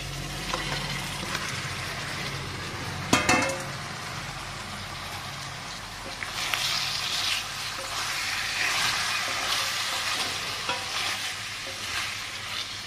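Mutton curry with ginger paste simmers and is stirred in a pot, a steady close sizzle with scraping strokes and a brief clatter near the start, no talking.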